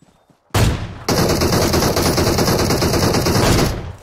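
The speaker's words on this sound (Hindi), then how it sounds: "सामने है सामने से फायरिंग आ रहा है" Rapid automatic gunfire in the mobile battle-royale game PUBG Mobile, a loud, dense burst of shots lasting about three seconds with a sharp onset and a high ringing tone layered over it.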